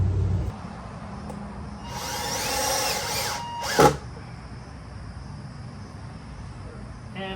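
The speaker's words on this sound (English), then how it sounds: "just putting in 3 screws" A drill drives screws into a wooden goat hay feeder, with one sustained whir followed by a brief sharp burst, set against a steady outdoor background hum with a faint insect-like chirp.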